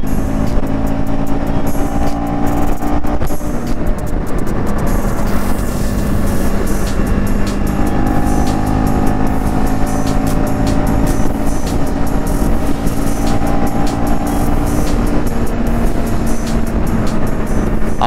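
A KTM Adventure 250 motorcycle cruising at about 80 gives a steady, loud engine drone with constant wind rush, running unbroken with no talk.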